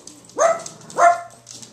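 Six-week-old puppies give two short, close whimpering barks, each one rising, with a faint hum in the background.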